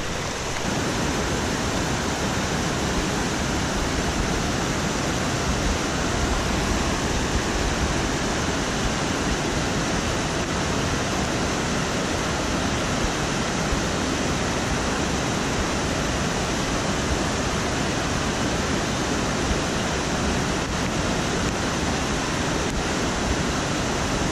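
A river flowing near Gurgeniani waterfall gives a loud, steady, unbroken rush of water that holds close and even from start to end, with no voices.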